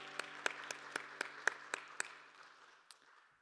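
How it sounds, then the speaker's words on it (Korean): Young adults at a Sunday church service clap in a steady, evenly spaced rhythm, crisp single beats heard faintly over a low sustained musical tone, then tapering off. "서로를 향해 격려하면서 박수하겠습니다."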